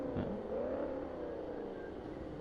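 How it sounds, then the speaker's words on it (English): Ford Mustang engine in a racing video game, a steady, loud synthetic engine tone that swells briefly as it revs, then holds an even drone with no talk. "They definitely did a good job on the audio for the Mustang."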